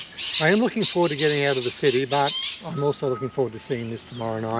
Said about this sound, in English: There's different parrots and rosellas and lorikeets and things,